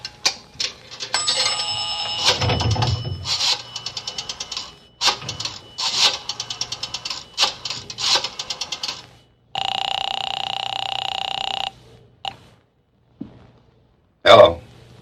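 A rotary telephone in a drugstore phone booth is dialed, a run of clicking ratchet bursts followed by a steady ringing tone and brief clicks, from an old radio drama.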